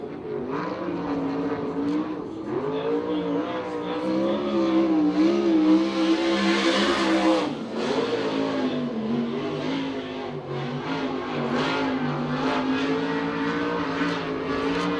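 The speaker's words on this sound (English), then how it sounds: "some of these cars are really having to do a lot of throttle feathering in the turns" USAC/CRA sprint cars racing at Tucson, Arizona, engines roaring loud and continuous with throttle feathered through the turns, pitch rising and dipping as the pack circles, dense overlapping engine drone throughout.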